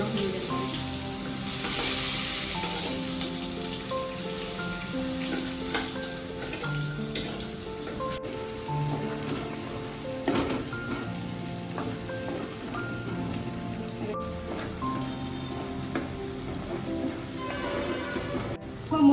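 Drumstick pieces frying in oil in a pan for a drumstick tomato curry: a continuous, even sizzle and crackle throughout, with faint background sounds and no clear voices.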